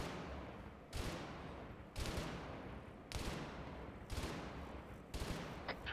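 Bursts of machine-gun fire from an Arma 3 firefight come in five loud, evenly spaced volleys about a second apart. Each volley is a dense rattle of rapid shots.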